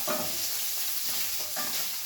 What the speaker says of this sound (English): Now putting it on oil to fry it.